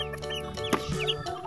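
Small ducklings call over a background of music with steady tones, their short clucking, chattering notes sounding close and moderately loud through the brief moment.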